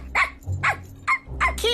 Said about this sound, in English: Yeah, you're a good dog.